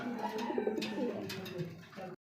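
A pair of white Indian Bombay pigeons coo softly and repeatedly at close range, their low rolling calls layered over faint background noise until the sound cuts off abruptly.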